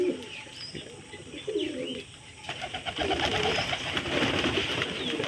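Black pigeons coo repeatedly at close range on a rainy-season day, with soft chirps layered in. Their low, rolling calls grow fuller and more continuous in the second half.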